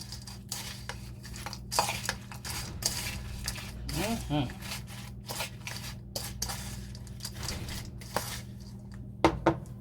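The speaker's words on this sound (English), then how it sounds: "We're going to mix that all around." A spoon scrapes and clinks steadily against a bowl as caramel syrup and cheesecake ingredients are stirred together, with continuous rubbing and occasional sharper taps of metal on the dish.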